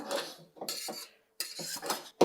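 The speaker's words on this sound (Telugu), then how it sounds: "స్ట్రైట్గా అందులోనే వేయకోకుండా ఒక గిన్నెలో దిమ్మరిస్తున్నా ముందు." Cooked jeera rice is tipped from a pot into a bowl, giving short bursts of metallic clinks and scraping separated by brief pauses.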